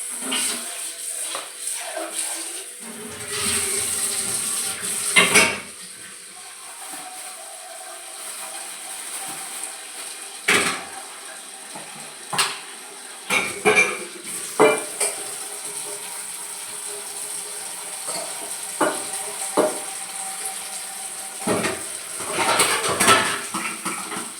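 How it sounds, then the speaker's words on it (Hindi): Tea dishes are washed by hand. Steel utensils clink and clatter at irregular moments against a running background hiss, with occasional louder knocks close by. "ये मेरे 2-4 बर्तन पड़े हैं चाय के, तो मैं इसको मांज लेती हूँ।"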